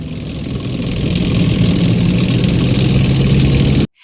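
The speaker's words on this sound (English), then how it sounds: "Tank." Cartoon military tank engine rumbling steadily at a loud, constant idle for about four seconds, with a deep low throb and hissing mechanical texture, then cutting off abruptly.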